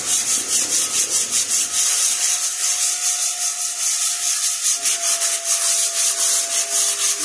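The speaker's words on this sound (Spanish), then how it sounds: "Vamos a lijar este pedacito aquí." 150-grit sandpaper rubbing back and forth on wood in steady, rhythmic strokes, close up and continuous, with no talking.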